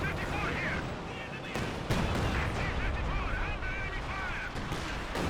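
Artillery barrage in the strategy game Company of Heroes 2, a run of booming impacts and gunfire thumping under continuous casting talk, with a louder blast partway through.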